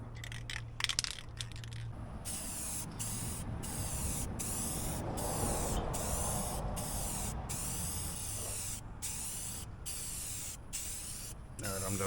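A spray gun lays a heavy coat of paint on a Jeep Cherokee outdoors in wind, giving one long steady hiss broken by short regular gaps, with brief clattering near the start.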